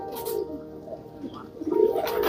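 Prized Kagzi racing pigeons at a fancier's loft in Jaipur coo in soft low murmurs, a couple of swelling calls rising toward the end, close by with no talk.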